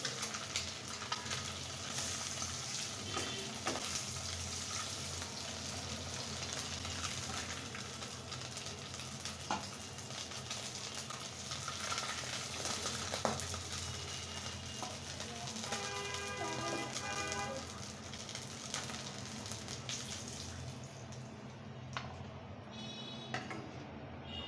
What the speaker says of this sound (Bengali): এখন আলুগুলাকে ফ্রাই করে নেব